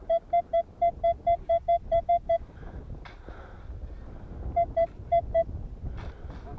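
Outdoors while hunting for ancient finds, a Minelab metal detector gives a clear signal, a fast run of bright, even beeps, then a pause with wind rumble, then a shorter burst of the same tone.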